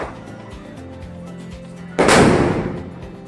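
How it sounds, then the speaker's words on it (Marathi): During Diwali, one loud firecracker bursts with a sharp bang that decays over about a second, following quieter background sounds. "निर्मी फटाक्यांना भिवून राहिली आहे"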